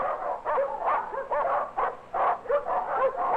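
Several dogs barking and yipping in a dog pound in an old film, a close, busy chorus of overlapping barks, yelps and whimpers in quick bursts.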